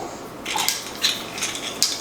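Kitchen utensils clattering and scraping against a dish, several bright metallic clinks in quick succession, up close.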